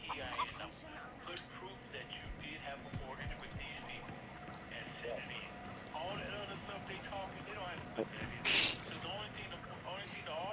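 A chicken clucks in the horror game The Texas Chain Saw Massacre, faint intermittent fowl calls in the background while players keep talking over them, with a brief louder sound near the end.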